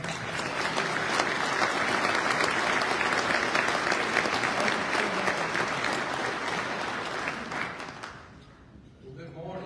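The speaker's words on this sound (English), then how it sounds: "Let's give a big round of applause for Mayor Mercado." A large crowd at a mayor's prayer breakfast applauds Mayor Mercado with loud, dense clapping that holds steady for several seconds, then thins and fades near the end.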